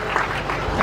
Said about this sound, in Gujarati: એમને આપણે તાળીઓથી વધાવી.